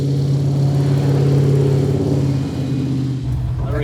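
A supercharged aluminium .215 engine in a 1963 Ford Cortina street-legal hot rod dragster idles with a loud, steady, deep rumble that eases slightly near the end.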